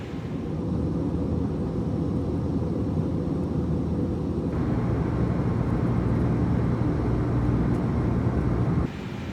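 An A320 airliner climbs to cruising altitude in Microsoft Flight Simulator 2024, with a loud, steady engine drone and broadband rumble heard from the cabin that thickens partway through and then drops off sharply near the end, with no voices.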